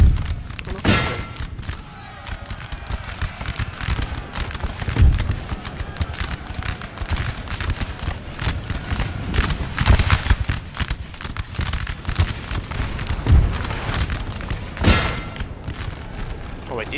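Soldiers' musket gunfire in the Napoleon: Total War video game: dense, continuous volleys of cracking shots and booms, some sharp reports standing out, sustained and loud throughout.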